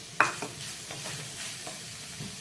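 Paneer cubes hit a hot pan for a masala veg frankie filling, giving a soft sizzle. A spoon stirs with a few light scrapes, all fairly faint.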